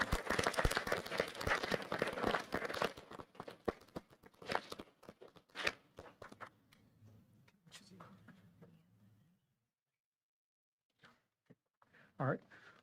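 Applause for teachers, educators and students at a school board meeting: a burst of crowd clapping that thins into scattered claps and fades to near silence, with a few faint sounds afterwards.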